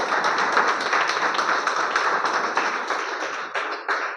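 An audience applauding a company's founder and CEO, a dense, sustained patter of many hands clapping at moderate distance, continuing evenly for several seconds with no voices over it.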